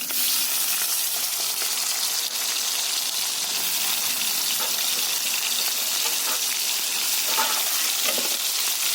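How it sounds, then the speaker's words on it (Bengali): Salted, turmeric-coated shrimp frying in very hot oil in a wok, a loud continuous hissing sizzle that holds steady throughout, close up with no voices. "চিংড়ি মাছটা ভেজে নেব"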